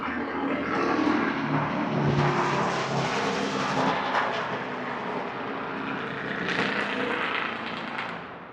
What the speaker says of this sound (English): don't really know how these trucks sound so loud